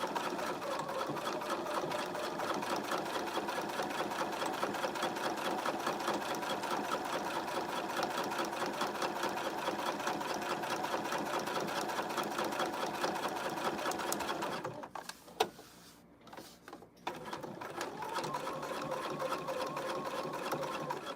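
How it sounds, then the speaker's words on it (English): A sewing machine topstitches around fabric bows for a knotted headband, a long, even, fairly quiet whir of rapid stitching that briefly falters and stops before resuming at the end. "I'm going to top stitch around my bows now."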